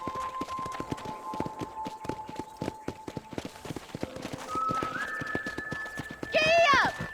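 Horse hooves gallop in Red Dead Redemption with a steady, fast clip-clop rhythm up close. A sustained tone sits in the background, and a sharp whinny rises near the end.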